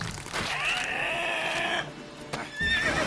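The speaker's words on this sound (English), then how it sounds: "That's a horse anyways." Horse whinnying in The Witcher 3: Wild Hunt, a drawn-out high neigh rising and falling over a background of game ambience, followed by a shorter second call.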